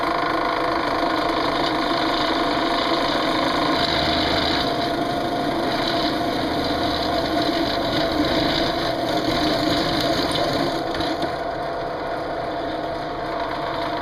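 A power drill running steadily through a homemade metal fishing weight, a continuous high whirring motor whine with slight fluctuations, close and fairly loud, without speech.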